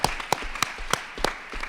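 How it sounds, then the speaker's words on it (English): An audience claps at a convention panel for a cosplayer, with a short burst of scattered, moderately loud claps from a small crowd in an indoor hall. "Everybody applause there."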